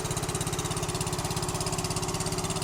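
A Cub Cadet 680 garden tractor engine idles with its new vertical exhaust stack, a loud, steady, close-up putter with an even rapid pulsing beat and no voices.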